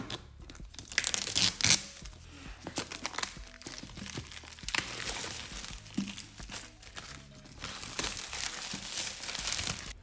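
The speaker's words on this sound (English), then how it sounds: "the first thing we're going to need to do is to open the plastic" Plastic wrap being pulled and torn off the box of a Kiara Sky lavender LED nail lamp, loud close crinkling and crackling in bursts that continue throughout, heard alone.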